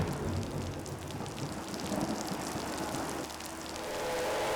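Monsoon rain falls steadily at the Sepang racing circuit, a dense, even hiss of drops on surfaces with a low rumble underneath, continuous and without voices.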